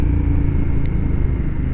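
Motorcycle engine droning steadily, loud and close, a dense low rumble lasting the whole moment, with no talk; the bike is thought to be a KTM 390.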